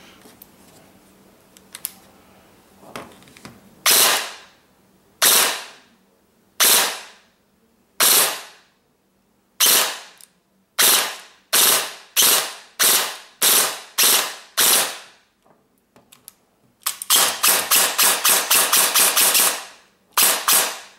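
Ares G36C airsoft rifle firing up close: sharp, loud single shots spaced about a second apart, then a fast rapid-fire burst at the end, with no talking.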